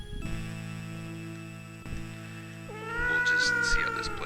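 A cat meows in the Dead of the Brain video game, a drawn-out, wavering cry entering over sustained tonal game music in the second half, fairly close and clear.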